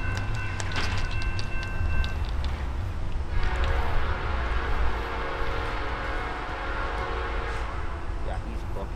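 A Norfolk Southern freight train moving fast near Austell rumbles loudly and steadily throughout, with a horn-like tone early on and a steady roar of rolling wagons.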